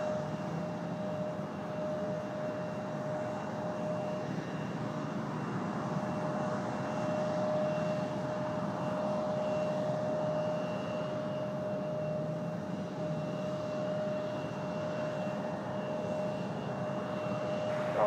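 At Raleigh Durham International Airport, a steady aircraft engine roar and whine drones on continuously at moderate distance, with a thin tonal hum running through it and no speech.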